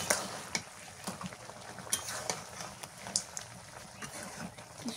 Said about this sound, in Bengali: একটু নাড়াচাড়া করি